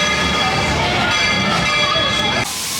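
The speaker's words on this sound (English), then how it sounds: "Those of you who've been riding with me for a spell already know how much I love riding this train" A train ride at Disney's Magic Kingdom on Christmas Day, with a bell ringing over the rumble of the moving train, a loud and steady ride sound that shifts near the end.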